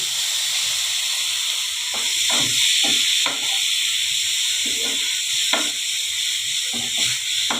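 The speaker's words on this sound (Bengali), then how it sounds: "এবারে আমি এই যে পাঁচ ফোড়ন আর শুকনো লঙ্কাটা ফোড়নে দিয়ে দিলাম" Carrots and seeds sizzle in hot oil after a five-spice and dried red chili tempering, a steady hiss with scattered crackles and stirring scrapes throughout, close and continuous.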